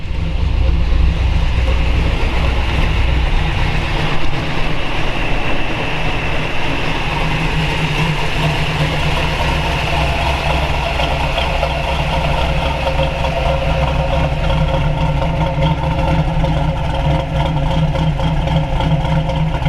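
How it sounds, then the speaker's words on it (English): A 1969 Chevrolet Camaro Z28 with a 302 V8 and factory crossover exhaust idles, a deep, steady rumble continuing loudly, a low throaty drone with no speech over it. "Well, you can hear that. That's sweet. Factory crossover exhaust on it."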